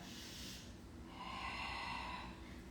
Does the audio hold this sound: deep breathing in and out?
yes